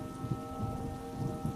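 Steady rain falls outdoors beside a pond in a continuous broadband patter, with no voices, forming a dense, even wash of drops throughout.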